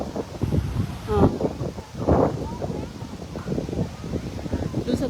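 Strong wind at a beach buffets the microphone in low, uneven rumbling gusts under nearly continuous talk.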